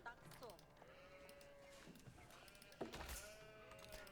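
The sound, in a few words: sheep bleating in the video game Age of Empires 4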